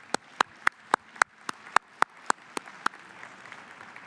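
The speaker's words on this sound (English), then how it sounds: "let's give them a round of applause for what they've created" A steady run of about eleven evenly spaced, sharp handclaps rings out at a brisk, regular pace, crisp and fairly close, then stops, leaving a faint hiss.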